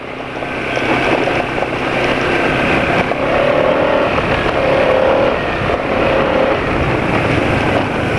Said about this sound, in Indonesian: suara mesin justru lebih kasar daripada sebelumnya